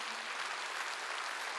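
A church congregation claps at a Wednesday worship service, a faint, distant patter of applause that holds steady for a moment before a brief bump at the end.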